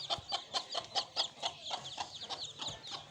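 Young chicken chicks peep in a rapid run of short, bright chirps, about a dozen calls in three seconds, close and fairly soft, with light clucking beneath.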